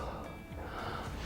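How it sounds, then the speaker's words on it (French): A short breathing sound effect from phobia therapy software, meant to seem like someone close behind: a soft, airy breath or snort, brief and fairly faint. "Je peux également ajouter un son de respiration, par exemple, derrière mon patient, pour lui donner la sensation qu'il y a quelqu'un qui le suit."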